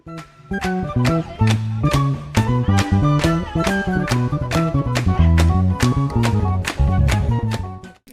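A bass guitar plays a jazz tune alone: a melodic passage of plucked notes in a quick, syncopated rhythm with chordal bass lines and steady attacks.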